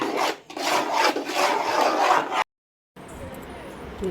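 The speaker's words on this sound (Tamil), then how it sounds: "ஒத்த கையிலெல்லாம் கிண்டவே முடியாது அந்த அளவுக்கு டைட்டாக இருக்குது கிண்டிகிட்டே இருக்கோம்" A spoon stirs a thick, stiff malt mixture in a pan, making continuous rough scraping and rubbing that cuts off briefly, then resumes more quietly.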